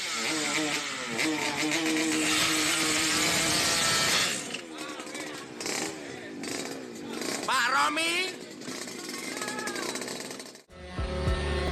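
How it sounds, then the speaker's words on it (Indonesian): A two-stroke motorcycle revved hard at full throttle while standing still, a loud, buzzing, rasping engine wail that rises and falls in long surges, close up, with someone talking over it. "Dia geber-geber dengan full throttle dan motornya diem tanpa ada bantuan angin sama sekali"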